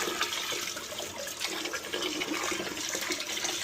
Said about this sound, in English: Now we're gonna rinse down the toilet here. Give it a good rinse.